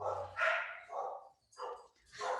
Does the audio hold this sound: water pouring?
no